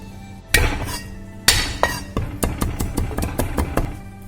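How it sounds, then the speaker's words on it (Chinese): Garlic cloves are minced with a knife, producing sharp, close chopping strikes: a couple of heavy blows, then a quicker, fairly regular run of knocks. "再准备点蒜子剁成蒜末"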